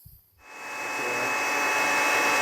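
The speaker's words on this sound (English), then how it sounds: "use a hair dryer. Helps speed up the process." A hair dryer switches on after a quiet moment and ramps up to a steady, loud whooshing whine with a faint tonal hum while drying a watercolor painting in a studio.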